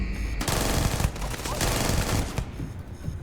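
Rapid machine gun fire in Starfield rattles out in a loud, close burst lasting a few seconds, with a voice faintly under it.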